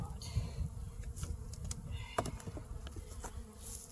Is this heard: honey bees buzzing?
yes